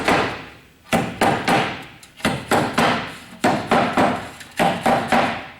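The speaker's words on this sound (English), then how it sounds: "I'll take my hammer and I'll tap these down" A hammer taps down staples on a wooden queen cell starter for queen rearing, in quick sharp bursts of two to four strikes separated by short pauses, close and loud.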